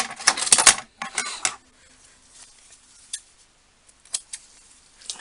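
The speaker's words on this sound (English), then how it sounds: "So we're going to take a bit of ribbon. This one's a bit too long. Let me just cut it." Scissors snipping through a length of ribbon for Disney-themed decorations, a quick burst of crisp close cuts followed by a few scattered, fainter clicks of the blades in near silence.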